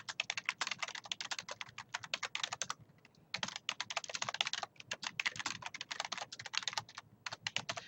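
Someone types on a computer keyboard while working on a fifth-grade holiday project document: quick, crisp, close keystrokes in fast irregular runs, with a short pause near the middle and no talking.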